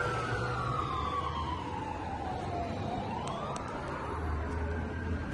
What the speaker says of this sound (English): Uh-oh, ambulance.